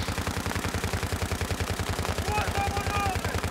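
Machine gun fired into the air in the video game Battlefield 3, a steady rapid rattle of shots running continuously at moderate loudness, with faint game sounds mixed in.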